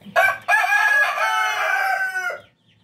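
A Rhode Island rooster crows loudly and close by in one long, sustained call after a short opening note, with faint clucking from the chickens at the very end and no talk.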